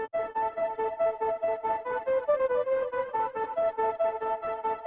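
A synth lead melody from an Analog Lab preset plays alone in a bright, pulsing line of steady repeated notes, fairly quiet.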